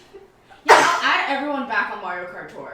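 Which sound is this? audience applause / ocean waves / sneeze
sneeze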